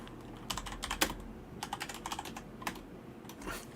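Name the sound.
typing on a computer keyboard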